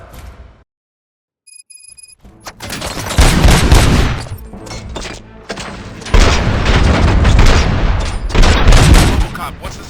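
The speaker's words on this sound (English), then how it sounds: "Gunshots? What's going on?" Sustained gunfire in the RoboCop: Rogue City video game, with dense bursts of rapid shots and booms erupting after a brief hush and continuing loud and close.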